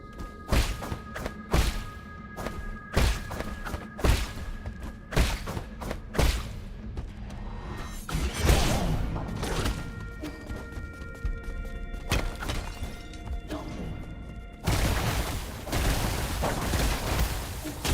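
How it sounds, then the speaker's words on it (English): Grenades detonating in a video game set off a string of heavy, booming thuds, some evenly spaced and others clustered, loud and close, with a denser rumble of blasts toward the end. "They really have grenades."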